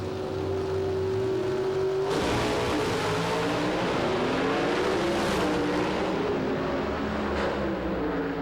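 An Oldsmobile and a Dodge drag racing flat out down a quarter-mile strip: continuous loud, roaring engine noise with a steady whine that shifts pitch partway through as the cars accelerate, no talk.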